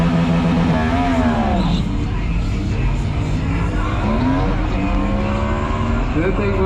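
A drag racing car launches down the strip at a drag race event, its engine loud and continuous with rising and falling revs close by, while people talk over it.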